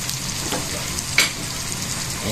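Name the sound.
bagoong shrimp paste frying and being stirred with pork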